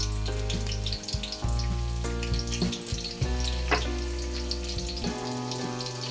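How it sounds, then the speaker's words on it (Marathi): Crushed garlic fries steadily in a pan for an amti curry, a continuous close sizzle with occasional soft stirring scrapes and no voices. "लसूण चांगला भाजून द्यायचा आहे लाल होऊन द्यायचा आहे"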